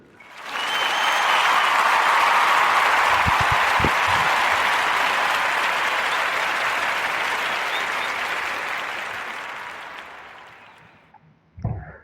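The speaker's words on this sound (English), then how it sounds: "So give a Warm Narrative podcast round of applause for Mrs." An audience at a podcast recording breaks into loud, sustained applause that swells quickly, holds for several seconds, then slowly fades out.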